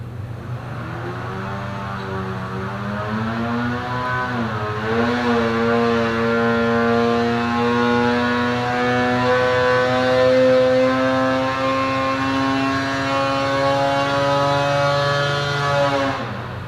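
A 2020 Polaris Axys 850 snowmobile engine with Bikeman Stage 1 and Torque Link upgrades runs on a dyno, roaring loud and steady as its pitch climbs then holds at a high drone before easing off at the end.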